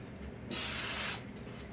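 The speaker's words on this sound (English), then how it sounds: "Let me spray this one more time." A single burst of cooking spray hisses onto a griddle for about half a second, steady and close, then cuts off into quiet room noise.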